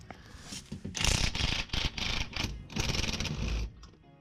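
A ratchet wrench works nuts off the torque brace of a Mazda RX8 during a clutch job, with rapid bursts of clicking that stop and start several times, close by.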